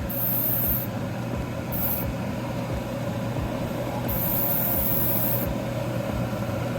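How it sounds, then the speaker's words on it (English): Short bursts of spray paint hiss from an airbrush at a 1/100 scale model kit inside a spray booth, three separate bursts, the longest near the end, over the booth's steady, loud fan hum. "you can't even see I'm spraying paint in there"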